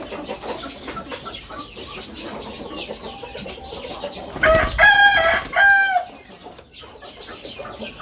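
A crossbred gamecock lets out a single loud, close crow in the middle, standing out clearly against low background noise before things go quiet again.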